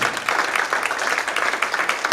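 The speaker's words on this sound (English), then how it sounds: "I think the governor deserves a round of applause for that." An indoor community meeting audience in Clarksburg, West Virginia, claps for the governor. The applause is dense and steady, many hands rattling together at an even level for the whole stretch, with no voices standing out.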